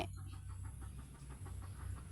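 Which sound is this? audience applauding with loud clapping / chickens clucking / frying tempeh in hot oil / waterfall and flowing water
chickens clucking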